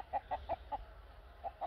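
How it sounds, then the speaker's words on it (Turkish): A rooster of a blue-egg-laying chicken breed gives a run of short, evenly spaced clucks, soft and slightly distant, with a brief pause before two more. "Mavi yumurtlayan tavuk cinsinden. Ama horoz bu."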